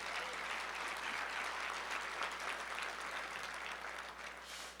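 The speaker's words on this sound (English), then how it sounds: "I like the clapping" An audience applauds at a speaking event, a steady wash of many hands clapping at a distance, fairly faint and even throughout, with no talk over it.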